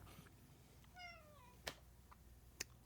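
A cat gives one faint, drawn-out meow in a quiet room, followed by a couple of sharp soft clicks or taps, with no talking.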